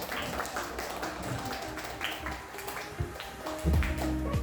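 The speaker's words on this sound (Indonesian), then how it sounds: "Tepuk tangan untuk kita semua." A classroom group claps hands together, a dense, fairly loud patter of claps mixed with some background voices and clatter.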